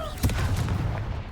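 A Descendo spell slams down in Hogwarts Legacy, giving a short, heavy thud followed by a brief rumbling impact in combat.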